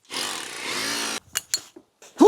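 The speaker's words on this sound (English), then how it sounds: "Let's see if we can core drill with this." A core drill bores through a house wall while a cable is being rerouted for an EV charger, running loud and steady for about a second before cutting out, followed by a few short knocks and clatters.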